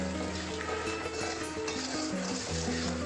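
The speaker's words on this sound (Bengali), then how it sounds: "অল্প পরিমাণে পানি দিয়ে আমি মশলাটাকে কষিয়ে নেব।" Spice paste fried in a pan with a little water, heard as a soft, low sizzle and bubbling under faint background hum, with no talk.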